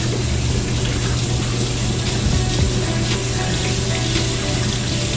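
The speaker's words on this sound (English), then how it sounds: "So I decided to take her over to the sink and wash her face" Water runs steadily from a sink tap while a child's face is washed, a continuous even splashing stream filling the whole stretch without pause or speech.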